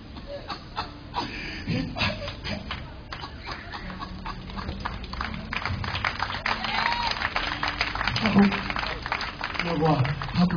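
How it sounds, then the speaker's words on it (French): Church congregation in Côte d'Ivoire clapping continuously, a dense steady patter of many hands that builds in loudness, with a preacher speaking over it. "applaudissez le roi"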